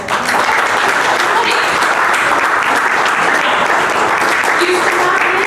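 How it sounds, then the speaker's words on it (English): Loud, dense applause from an audience at a Rotary scholarship program for scholarship winners called to the front, a continuous roar of many hands clapping at an even level from start to finish. "Let's give them a round of applause."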